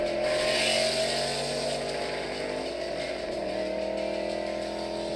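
A Ford Mustang with a 5-liter Coyote V8 drives on a track, a strong engine note that rises and shifts in pitch as the car accelerates, steady and fairly close throughout, with no voices.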